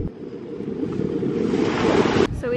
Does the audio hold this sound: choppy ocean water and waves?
yes